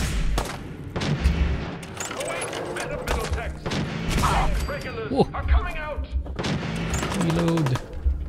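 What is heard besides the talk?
gunfire in video game Fallout 4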